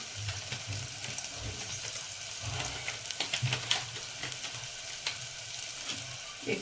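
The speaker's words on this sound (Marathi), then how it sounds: "आता गॅस बारीक करायचा चांगलं फ्राय करून घ्यायचं" Spices, including chili powder, green chili, turmeric and coriander powder, fry in a pan for a traditional Bhogi vegetable dish. The hiss is steady and close, with soft scrapes and knocks from stirring throughout.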